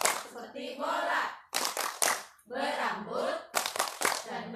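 Crisp clusters of group hand claps punctuate a rhythmic corona virus clapping game among teachers, set between stretches of chanted speech.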